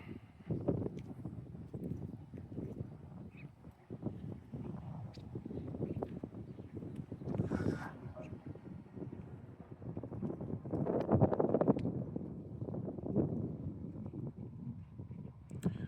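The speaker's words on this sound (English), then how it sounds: "I'm actually really in a big gust of wind right now" Strong, buffeting gusts of wind roar across a phone microphone outdoors on a windy day, rising and falling in bursts with heavier surges around the middle and later on, with no speech.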